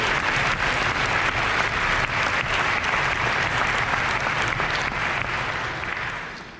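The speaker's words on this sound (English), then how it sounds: "so give him a round of applause" A concert audience in a hall gives sustained applause, many hands clapping in a dense, continuous roar that stays level before tapering off near the end.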